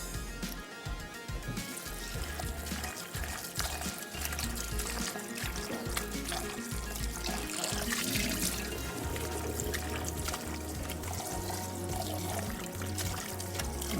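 Salted bitter gourd washed under a running tap, a continuous close gush and splash of water with rough handling noises throughout, loud and unbroken, with no speech.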